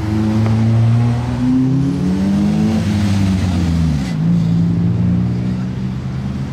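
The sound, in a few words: sports car exhaust passing in street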